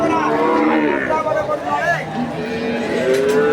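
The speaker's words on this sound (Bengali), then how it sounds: "বেশ বড় ফিগারের গরু" A large Friesian cow moos loudly at close range at a busy cattle market, one long drawn-out call with crowd noise around it.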